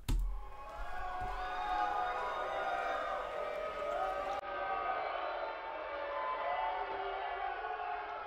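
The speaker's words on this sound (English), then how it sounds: "This crowd sounds good" A large wrestling arena crowd in the video game WWE 2K18 roars steadily, a dense wash of cheering and chatter that holds loud throughout with no clear breaks.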